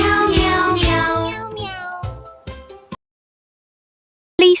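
A voice imitates a cat in a humorous Urdu children's poem, with loud, drawn-out meows repeated in a rhythmic, sung pattern, followed by a short pause and the start of another cry.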